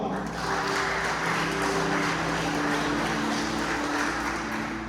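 A church congregation claps steadily for several seconds in a large room, a dense continuous patter with a voice sounding over it.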